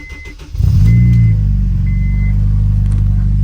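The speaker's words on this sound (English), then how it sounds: "let me just start this thing up so you guys can hear it." Acura RSX Type S starting from cold: a short crank and catch, then a quick rev that settles into a steady, deep exhaust idle, loud and close with no talking.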